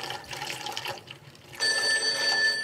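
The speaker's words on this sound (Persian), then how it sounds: "تلفون نمش نمیداره زنگ بخوره فهیمه." A landline telephone rings in a home in a Persian comedy series, its steady electronic tone starting partway through and sounding fairly close and loud over quieter background noise.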